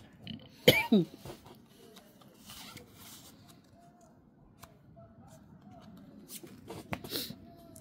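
A sharp, loud cough bursts out close by during a tongits card game among friends, followed by a second hack, then softer shuffling and rustling with faint voices.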